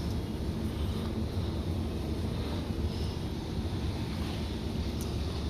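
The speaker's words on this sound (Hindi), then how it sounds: "और हवा चल रही है इस वजह से, और कूड़ा उड़ रहा है" Wind blowing outdoors ahead of rain, loose trash lifted by the gusts; a steady, loud low rumble of wind buffeting the microphone, with no voices.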